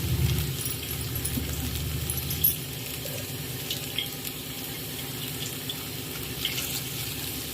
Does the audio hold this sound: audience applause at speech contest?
no